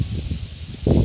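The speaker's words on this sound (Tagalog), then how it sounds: "lakas ng hangin dito" Strong wind buffets a mountaintop in rough, uneven gusts, the loudest blast arriving near the end, with no voices.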